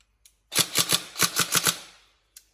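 An upgraded Tokyo Marui M4 Recce Rifle next-generation recoil shock airsoft electric gun fires a rapid burst of about seven sharp, loud snapping shots close by, followed by a single click.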